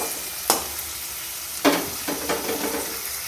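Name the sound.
frying green chili and chopped onion with salt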